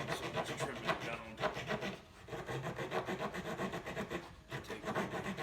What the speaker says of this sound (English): I carry a wooden spoon, and it's a little long, so that's trimming it down.